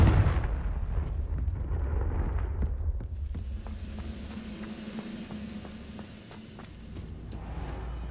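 Confringo spell blasts in the Hogwarts Legacy video game: a heavy boom opens, followed by a long rumbling decay, scattered thuds and debris-like clatter with footsteps, no voices.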